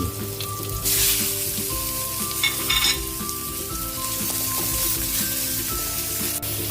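Ground pork hisses and sizzles loudly in a frying pan with onions, a dense continuous crackle. Stirring scrapes, utensil clatter and a brief rain-like burst of spatter sit over a low background hum.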